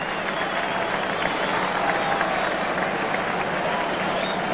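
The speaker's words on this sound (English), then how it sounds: "The applause for their coach," A large football crowd at the 1985 VFL Grand Final, Hawthorn versus Essendon, applauds and cheers Essendon coach Kevin Sheedy, a continuous roaring wash of clapping and crowd noise throughout.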